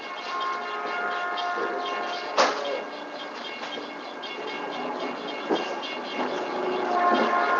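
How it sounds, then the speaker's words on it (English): A train rumbles past steadily with a broad, continuous roar, punctuated by a few sharp clanks and knocks, swelling slightly toward the end. "And as the train starts to pass"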